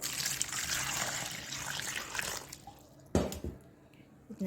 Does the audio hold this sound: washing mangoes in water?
yes